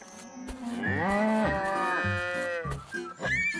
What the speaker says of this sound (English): Looks like all the cows are having their food.